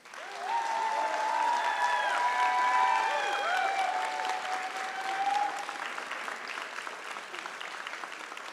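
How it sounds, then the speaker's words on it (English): Graduates and guests at the Berkeley Journalism commencement ceremony applaud the faculty in a long, even wash of clapping, with bright whoops and cheers rising over it early before the applause slowly thins. "a round of applause for our faculty, please"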